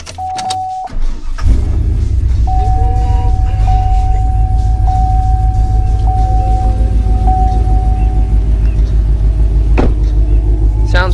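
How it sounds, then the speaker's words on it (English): A cammed, head-swapped truck engine with headers, full exhaust and a quiet muffler starts with a short crank, then settles into a loud, steady, lumpy idle rumble with a faint whine and a couple of clicks on top. "Sounds pretty good. It's got a pretty quiet muffler on it."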